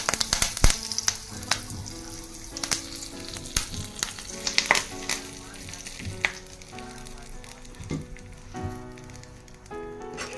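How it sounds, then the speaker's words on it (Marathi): Hot peanut oil sizzles and crackles steadily with sharp pops as cumin seeds hit it, plus a few metal clinks from stirring, fairly close with no voices. "तेल गरम झालेलं आहे जिरं टाकते फोडणीसाठी"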